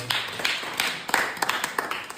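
Students clap for a girl who solved a chair-straightening puzzle, a short burst of scattered, uneven handclaps close by.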